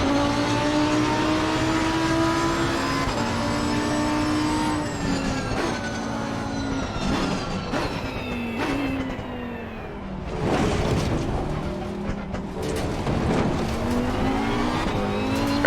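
A race car is driven at night in Assetto Corsa Competizione, its engine loud and close, revving through rising and falling gear changes with downshifts and tire squeal into corners, no talking.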